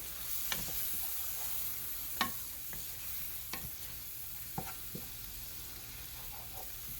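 A ham mixture with parsley and a little dry wine simmers and cooks down in a pan for Cuban croquettes, a soft, quiet sizzle punctuated by several sharp spoon taps and scrapes, with no talking.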